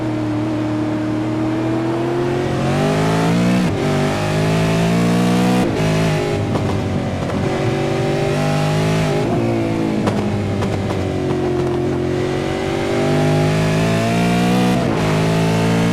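V8 race cars racing at Okayama circuit, loud continuous engine drone rising and falling with revs, gear changes and passing cars, engines layered throughout.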